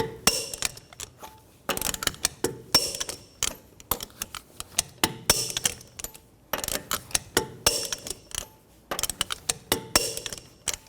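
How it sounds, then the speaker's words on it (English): Torque wrench tightening the lug nuts on a 2009-2017 Chevy Traverse wheel to 140 foot-pounds in a cross pattern, heard as repeated bursts of sharp mechanical clicking and ratcheting with short pauses between nuts, close and clear. "Now I'm going to torque the lug nuts down to 140 foot-pounds in a cross pattern to tighten the wheel down evenly."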